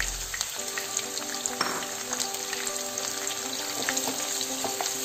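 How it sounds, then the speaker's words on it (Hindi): Onions fry in a pan over medium flame with a continuous dense sizzle and scattered crackles, close and steady, with no speech. "प्याज को भी हम गोल्डन ब्राउन कलर आने तक फ्राई कर लेंगे"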